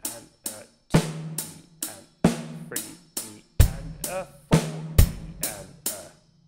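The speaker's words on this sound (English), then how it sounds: "we're going to add a kick drum on the E of beat 4 in both bars" Drum kit plays the Toosie Slide groove with a kick drum added on the E of beat 4, crisp repeating hi-hat and snare hits over punchy kick strokes in a steady sixteenth-note pattern, close and without talking.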